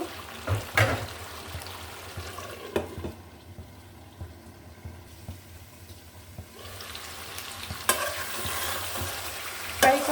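Duck meat curry being fried in a pan, with a continuous low sizzle of oil and masala close by. Scraping stirs sound at irregular intervals, and the frying hiss rises again near the end. No voices.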